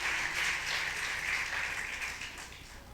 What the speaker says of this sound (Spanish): déselo fuerte el aplauso al Rey de Reyes y Señor de Señores